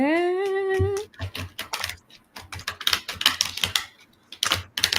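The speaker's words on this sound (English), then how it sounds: "we are shuffling cards" A rising tonal whine at the start, then rapid papery riffling and clicking bursts of tarot cards being shuffled close by in quick repeated passes.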